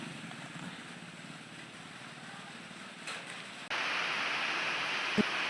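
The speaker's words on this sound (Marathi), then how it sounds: "ना अचानकच आला पाऊस तस वातावरण होतच ना" Heavy, sudden rain pours down outdoors as a steady broadband hiss that jumps noticeably louder partway through, with a brief knock near the end.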